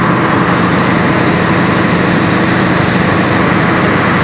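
An engine-driven generator making electricity at a coal mine runs nearby, a loud, constant broadband roar and drone with no change in pitch or rhythm, and no one speaking.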